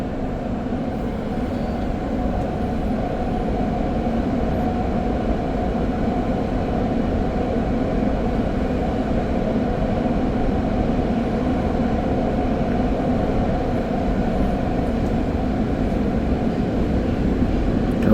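A Deux-Montagnes test train on the REM line out of Brossard Station, heard from inside as it rides through a corner: a steady, unbroken rumble of wheels and rolling stock that holds level throughout, with no voices.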